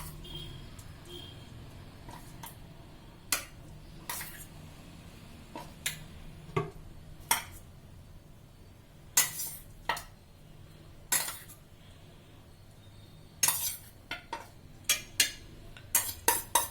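Salted, turmeric-coated mutton spread as a layer in a pot: scattered metallic clinks and taps of a spoon against the vessel, irregular and fairly close, over a quiet background.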